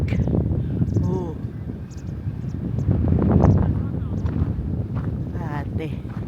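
Strong, cold wind blows outdoors in Tokyo, buffeting the microphone in a constant loud rumble, while people talk and exclaim over it.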